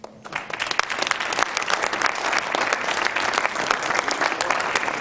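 Studio audience applause on a Georgian late-night TV talk show, a dense, loud burst of clapping that swells in quickly and holds steady for about five seconds, with no talk over it.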